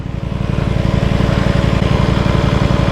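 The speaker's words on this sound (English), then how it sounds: "So today we're test riding the S1000" A BMW S1000R motorcycle engine runs close by on choke, a loud, rapid, pulsing drone with steady rhythmic firing and no voices over it.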